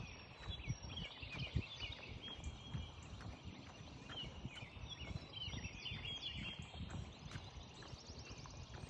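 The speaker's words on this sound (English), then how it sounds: "Every morning, just listening to this bird, the singing" Bright bird song chirps and trills repeatedly during a morning jog over a busy, rumbling outdoor background with scattered knocks, the birds moderately close and fairly clear.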